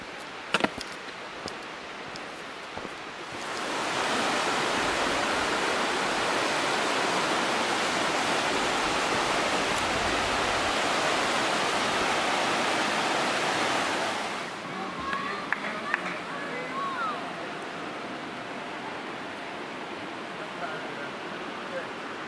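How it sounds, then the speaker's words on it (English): Steady, broad rushing roar of a river flowing through a forested gorge, swelling in as the path nears the water and holding loud for about ten seconds before dropping away, with footsteps on a trail around it. "You can start to hear the river."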